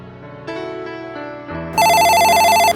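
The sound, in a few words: telephone ringing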